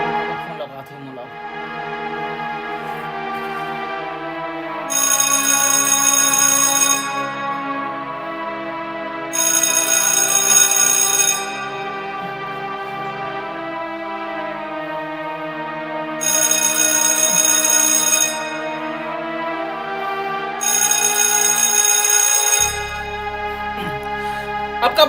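Telephone ringing during a phone call: four bursts of bright electronic ringtone, each about two seconds long, repeating at steady intervals over a sustained musical background.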